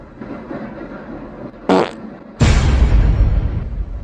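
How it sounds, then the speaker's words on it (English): A short squeaky fart sounds, then after a brief pause a longer, louder, rumbling fart follows, close and distinct against a quiet background. "It smells like somebody farted."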